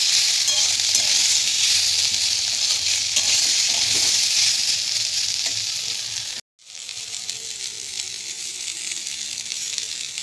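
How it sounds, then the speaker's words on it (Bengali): Steamed amla gooseberries sizzle over a low flame as they are stirred in a pan for pickle. The hiss is loud and continuous, with stirring scrapes, and breaks off briefly before resuming a little quieter. "স্টিম করা আমলকিগুলো দিয়ে দিলাম, দিয়ে আমি হালকা আঁচে একটু নাড়াচাড়া করে নেব"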